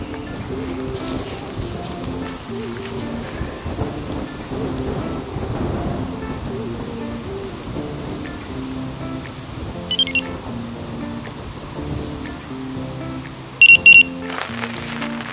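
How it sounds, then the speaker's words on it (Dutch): Steady rain drums on a fishing tent during a night carp-fishing session in the Netherlands, a continuous close patter with low rumbling undertones, with a few brief sharper knocks near the end. "Jongens, je hoort het. Regen."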